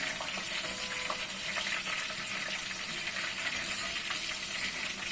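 Eggplant fries in a pan of hot oil, a soft continuous sizzle and crackle with small pops, faint and close, no voices over it.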